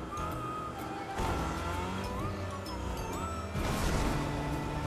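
A Rocket League car drives in Fortnite, its engine droning and shifting pitch beneath layered in-game effects, with bursts of louder noise and brief tonal sweeps across several seconds.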